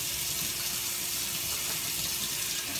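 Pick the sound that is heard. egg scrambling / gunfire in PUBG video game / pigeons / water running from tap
water running from tap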